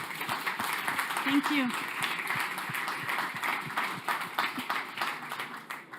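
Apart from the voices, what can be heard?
audience applause for speaker Christina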